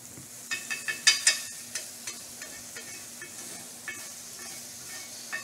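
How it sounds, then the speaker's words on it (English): Sirloin browning in a hot pan, a soft steady sizzle broken by a few sharp scraping clinks and taps of a utensil stirring the meat, close and moderately quiet, with no talk. "we're going for some browning on the meat for flavor and a little bit of fond"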